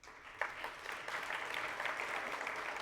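Faint, steady clapping from an audience at a congress closing ceremony, a continuous patter of many hands heard at a distance.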